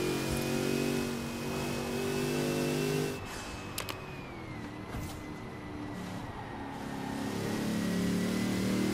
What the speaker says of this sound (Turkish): Hafif bir turbo sesini de alınca tabii daha hoş oluyor